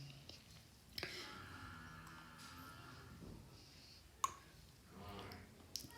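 Mouse clicks on a computer, a few sharp isolated ticks spaced out over a quiet room background with faint low hum and occasional soft movement.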